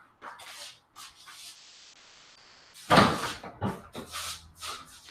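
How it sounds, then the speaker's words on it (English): A dog crate door slams shut once with a sharp, loud bang, followed by rattling and shuffling, after quieter handling noises and a faint voice. "You probably heard the cell door slam"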